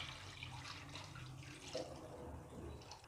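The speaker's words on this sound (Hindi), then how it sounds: "और अब इसमें हम डालेंगे जी सिंपल टैप वाटर" Plain tap water runs into a bowl of washed raw chicken, a soft steady splashing stream at low level, unbroken for a few seconds with no speech.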